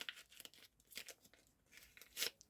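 Faint, close crinkly tearing of a thin paper packet in several short rips, with the final pull the sharpest.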